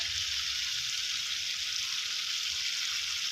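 Chicken mid-wings fry in hot oil in a pan with crispy frying flour sprinkled around them, a loud, dense, unbroken sizzling hiss heard close up and alone throughout.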